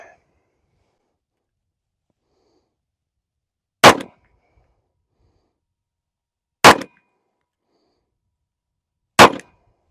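Three loud, sharp gunshots from a Sphinx SDP Compact 9mm pistol firing 124-grain rounds at 7 yards, spaced a few seconds apart with silence in between.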